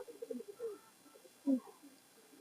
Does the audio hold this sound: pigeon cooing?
yes